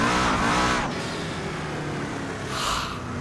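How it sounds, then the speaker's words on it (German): A Koenigsegg One:1 in Assetto Corsa at Lake Louise revs loudly, the engine note rising and dropping sharply, then surging again near the end, heard up close without talk. "einmal müssen wir kurz reinhören jetzt in den Königsegg"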